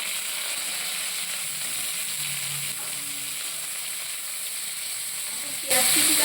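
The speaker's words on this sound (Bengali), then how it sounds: "তেল গরম হয়ে গেছে এখন কুচি করে রাখা পেঁয়াজগুলো দিয়ে দিচ্ছি" Steady sizzling of chopped onions frying in hot white cooking oil, a constant bright hiss throughout, ending in a louder burst near the end.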